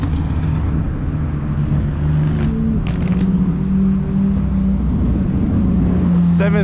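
Several supercars rev and drive past, a steady loud mix of engine drone with rising and falling tones and a few sharp pops near the end, with a voice talking over it.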